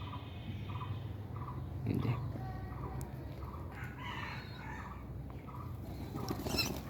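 Two caged birds let out of their cages call repeatedly in fowl-like clucks and squawks, steady and fairly close, over a constant low background rumble.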